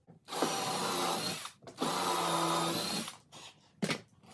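A power drill runs in two sustained bursts, boring into a wooden board for a bird house, each whining steadily for about a second and a half, followed by a brief final spin; close and fairly loud.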